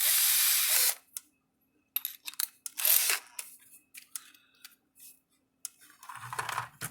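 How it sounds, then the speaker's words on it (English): A drill bores a hole for mounting a fuse holder on a Speedrite electric fence charger setup, in a few short, sharp whirring bursts with clicks and quiet gaps between them. "drill a hole."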